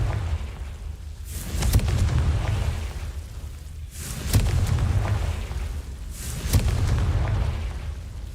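Confringo fire spell blasts in Hogwarts Legacy, three loud booming explosions spaced a couple of seconds apart, each with a sharp crack and a deep rumbling tail.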